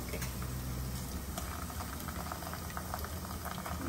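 Ginger paste fries in a pan with a dense, continuous bubbling sizzle that stays fairly quiet and even throughout, with no voices.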